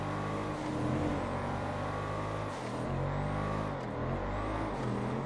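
Schafter car in GTA V roleplay, fitted with a turbo and tuning, with its engine droning steadily and rising and falling in revs as it drives, loud and continuous with no talk.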